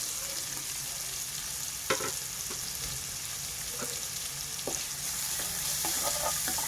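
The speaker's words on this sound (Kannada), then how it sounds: "ಈರುಳ್ಳಿ ಚೆನ್ನಾಗಿ ನಮಗೆ ಫ್ರೈ ಆಗಬೇಕು." Finely chopped medium onion frying in oil in a pot for dal tadka, giving a steady close sizzle with occasional sharp taps of a stirring spoon against the pan, and no voices.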